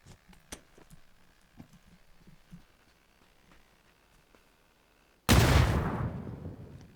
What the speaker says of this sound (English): I'm gonna use a grenade